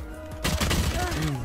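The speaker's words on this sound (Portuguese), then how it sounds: "Consegui atirar." A short burst of gunfire in the video game Valorant, sharp onset then a brief rattling tail, fairly quiet in the mix, with a voice talking over it.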